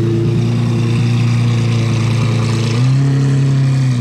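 A Lamborghini Aventador SV with a loud exhaust, its engine holding a steady, close, loud drone before the pitch steps up as it revs higher near the end.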